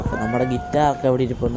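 A pet cat meows in the living room of a newly bought house, giving a couple of short, close meows that blend with a person talking nearby.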